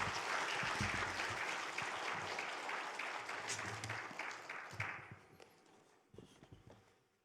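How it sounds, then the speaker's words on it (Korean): A church congregation at a Sunday worship service claps to welcome the pastor, loud dense applause that thins and fades out over the last couple of seconds, with a few stray claps and shuffling after. "우리 목사님 나오실 때 한번 환영의 박수로 모시도록 하겠습니다"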